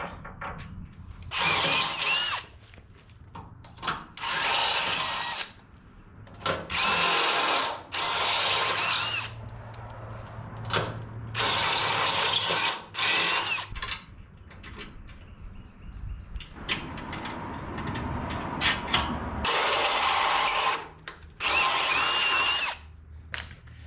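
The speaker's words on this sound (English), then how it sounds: "Seems like we're gonna have to drill these holes out." A power drill drills holes in 1961 Parkwood wagon suspension parts, whirring in repeated high-pitched bursts of several seconds each, separated by short pauses, close and loud.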